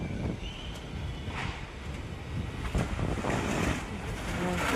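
Strong wind gusts ahead of a rainstorm in an open rural spot, a continuous roaring rush that buffets the microphone and grows slightly louder toward the end.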